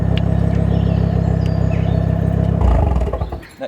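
A hot hatch's raw, droning straight-pipe, decat exhaust rumbles steadily up close, then swells into a louder rev before dropping off; no talking.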